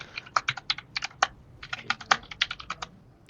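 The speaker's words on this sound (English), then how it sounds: "It is a clacky keyboard." Clacky computer keyboard typed on in quick uneven runs, each key a crisp close click, steady flurries with short gaps and no talking.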